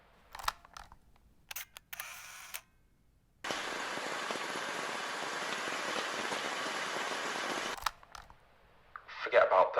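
Homemade rain effect: a steady, dense hiss of patter held for about four seconds, with brief clicks and knocks before and after it and a short stretch of voice at the end.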